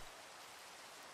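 Rain in Minecraft, a faint, even hiss of falling drops lasting about a second, steady and soft with no voices over it.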